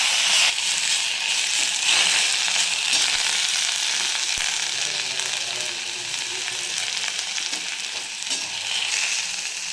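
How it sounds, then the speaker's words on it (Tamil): Handful of greens being sautéed in hot oil for a chutney, giving a steady, loud, close sizzle that hisses on without a break for the whole stretch. "அந்த கீரை போடுறேன். போட்டு நல்லா வதக்குறோம்."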